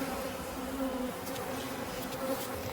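Honey bees swarm thickly inside a packed hive opened for inspection, a dense continuous buzz close and steady throughout, with no voices.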